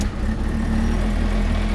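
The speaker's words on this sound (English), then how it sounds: "It's very quiet actually, that engine." A Striker Phoenix kit car engine, a 2008 build, idles steadily and quietly with a low, even hum and a constant mid-pitched drone, close by with no one speaking.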